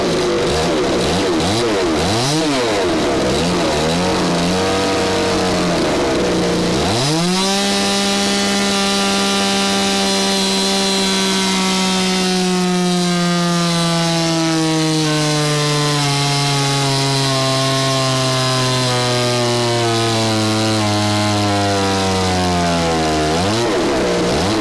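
A ported Stihl 026 chainsaw screams at full throttle on a dyno, first revving up and down in quick swells, then holding a loud sustained wail whose pitch slowly sags under load before revving back up at the end.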